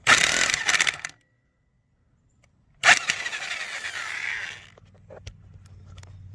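Power tool spinning off 21 mm wheel sockets on a 2001 Lexus ES300, two loud whirring bursts with a silent gap between, then a low hum and faint clicks.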